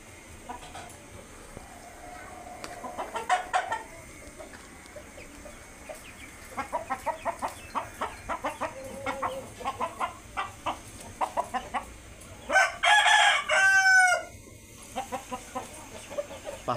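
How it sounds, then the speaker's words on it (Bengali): A muscular, aggressive Laiza hill-breed breeder rooster clucks repeatedly in short close bursts, then lets out a loud crow, with faint farmyard background noise around it. "পাহাড়ি বড় জাতের ব্রিডার, এটা ভিতরে লাইজার ভাব আছে, কিন্তু এটা খুবই ম্যাসকুলার একটা মোরগ"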